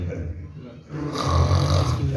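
A voice imitates loud snoring, producing a drawn-out, raspy snore that swells in volume partway through, close to the microphone and carrying on to the end.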